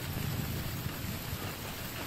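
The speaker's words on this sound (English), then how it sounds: "When's it gonna stop raining?" Steady rain in Death Stranding on PS5, a continuous broadband wash with low rumble, moderately loud and unbroken, with no voices over it.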